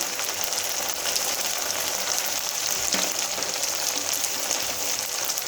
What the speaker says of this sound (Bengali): এবার আমি কষবো যতক্ষণ মশলা থেকে কাঁচা গন্ধ বেরিয়ে না আসে।